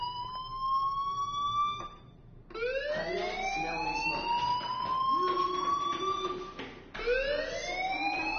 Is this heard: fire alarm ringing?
yes